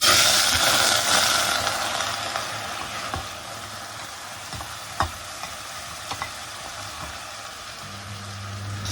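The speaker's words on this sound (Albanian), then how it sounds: "Pasi që është nxehur vaji pra në tenxhere, e marrim orizin e pastruar e qisim." Rice frying in hot oil in a pot gives a steady, close, dense sizzle that eases slightly over time, with a few soft clicks from stirring.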